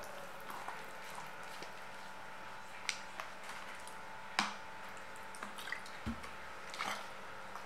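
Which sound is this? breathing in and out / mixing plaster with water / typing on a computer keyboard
mixing plaster with water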